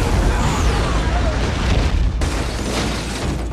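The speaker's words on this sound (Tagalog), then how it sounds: "Bago pa makapagpaliwanag si Ladybug, biglang sumabog ang briefcase ng buksan na ito ng kanyang mga tauhan." A briefcase blowing up in an action film scene set on a train: a loud, sustained roaring blast that fills the whole stretch, with a voice narrating over it.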